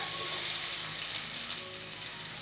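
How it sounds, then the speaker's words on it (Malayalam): Onion sautés in hot oil with cardamom and cinnamon for pressure-cooker tomato rice, giving a loud, even, hissing sizzle that stays constant and close throughout, with no speech. "സവാള ചേർത്ത് കൊടുത്ത ശേഷം നല്ല രീതിയിൽ എല്ലാം കൂടി ഒന്ന് വഴറ്റി കൊടുക്കുകയാണ്"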